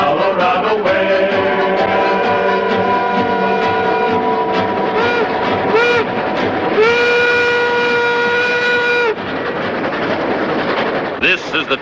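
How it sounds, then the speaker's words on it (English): A Tomahawk and Western Railroad train rolls through the Colorado Rockies, loud and close, its horn sounding in long sustained blasts over the steady rumble and clatter of the cars. "here's the first train to go out over the high iron"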